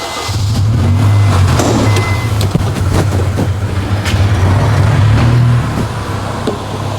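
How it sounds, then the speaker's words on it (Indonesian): A 2004 Honda Stream 2.0 facelift MPV engine idling steadily with a low even hum, loud and close, with faint ticks and clicks over it and a slight drop near the end. "Dan ini suara mesinnya halus"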